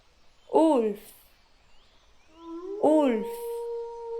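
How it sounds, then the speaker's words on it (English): A wolf howls with two swooping, rising-and-falling cries, then a steadier sustained tone, fairly close and clear, with nothing else around it. "Wolf"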